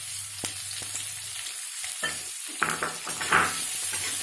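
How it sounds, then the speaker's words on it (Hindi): Chopped onion frying in a little hot oil in a kadhai after cumin seeds, a steady close sizzle with a few sharper crackles and stirring scrapes throughout. "इसे हल्के ब्राउन होने तक इसे फ्राई करूंगी।"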